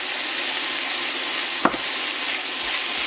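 Ground beef frying in a pan gives a steady, loud hiss of sizzling, with a single sharp scrape or knock partway through as the meat is broken up.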